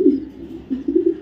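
Racing pigeons from a BRPFC club give low, close cooing notes, one coo followed after a short pause by a quick run of several more, no voices.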